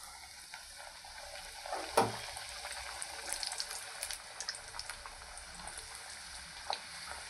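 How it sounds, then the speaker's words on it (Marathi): Green pigeon pea kachori frying in oil, a close crackling sizzle with a sharp splash-like burst early on and scattered pops after. "कचोऱ्या पण आपण फ्राय करून घेऊ।"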